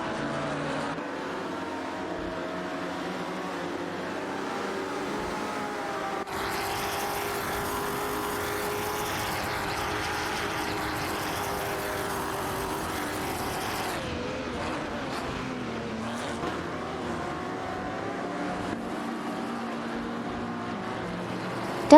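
Ferrari 250 GTO and Aston Martin Vantage cars in a racing video game: a continuous engine drone and whine that shifts in pitch partway through, steady and fairly loud, with no talking.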